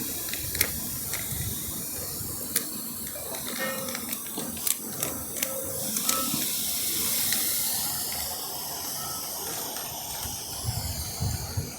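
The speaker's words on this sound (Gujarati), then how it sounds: "આવી રીતે આપણે અંદર નાખશું એટલે સમસમ થાય છે" Baking soda fizzes and hisses in the water of an electric pump battery during a home repair, a steady close bubbling with a few sharp crackles throughout.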